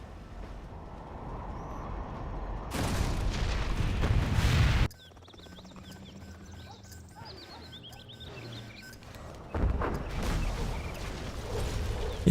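A TNT charge explodes and destroys a supply stockpile in a strategy video game, heavy rumbling blasts arriving in two bursts with quieter battle noise between them.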